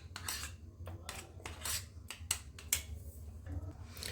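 A spoon mixes a mayonnaise and potato sandwich filling in a bowl, making repeated sharp clinks and scrapes against the bowl in an uneven rhythm, close and fairly quiet.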